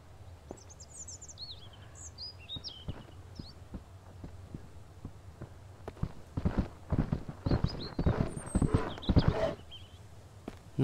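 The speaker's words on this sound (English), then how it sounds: "I can still hear those footsteps." Footsteps in the survival game Mist Survival: faint, sparse steps at first, then a louder burst of rapid, irregular thuds close by, with birds chirping in the background.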